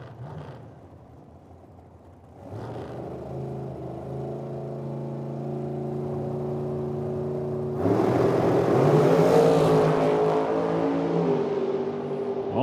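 Drag race cars launching down the strip at Medicine Hat, Alberta: a steady engine drone rises, then a louder, harsher roar surges in and stays high until the end, with no speech.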